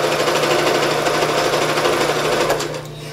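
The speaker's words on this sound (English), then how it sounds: "we're going to sew this baby up." A sewing machine stitches a maroon dress from solid fabric in matching thread, running in a loud, rapid mechanical chatter close by, then slowing and stopping near the end, with no voices.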